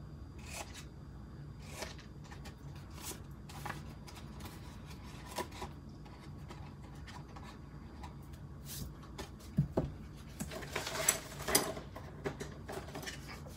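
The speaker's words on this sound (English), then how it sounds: "then we're going to trim these tabs just slightly" Paper tabs on a holiday box template being trimmed with scissors, a run of soft snips and rubbing close by, with a busier cluster of cuts toward the end and no talking.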